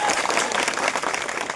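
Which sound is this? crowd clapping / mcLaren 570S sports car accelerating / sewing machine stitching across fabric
crowd clapping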